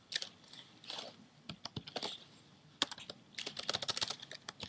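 Quick, uneven clicks from a computer keyboard being typed on, close and fairly quiet, coming in short bursts with brief pauses between them.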